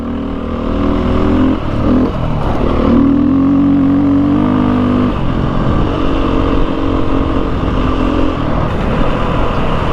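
A 2022 Beta 430 RR-S dirt bike engine drones steadily and loudly throughout at an off-highway vehicle park, its pitch rising and falling slightly as it revs, with road rumble underneath.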